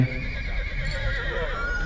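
Horses on show at a harvest festival in Częstochowa whinny and neigh amid a crowd. Hooves clop faintly, and a public-address voice carries over the steady background hubbub.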